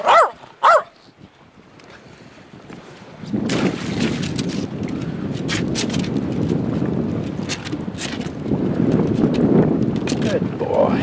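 Dog playing tug with a rope, a couple of sharp barks at the start, then a long stretch of close growling, tugging and rustling with wind noise on the microphone.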